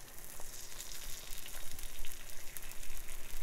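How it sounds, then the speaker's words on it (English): Bacon sizzles and spits steadily in a frying pan, a dense close crackle with scattered pops and no voices. "Alright, now we just gotta flip the bacon."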